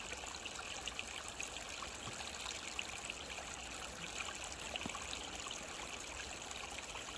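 A flowing stream burbles and trickles steadily and close by, a continuous watery wash with no talk, in a park in Izmailovo where RC crawler trucks are about to cross the water.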